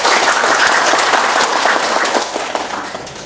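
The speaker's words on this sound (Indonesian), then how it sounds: "Kita beri aplaus dulu." Audience applause at a Nasdem party inauguration and consolidation gathering in Merauke, a dense burst of crowd clapping that stays strong and then tapers off toward the end.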